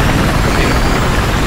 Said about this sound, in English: forget that chopper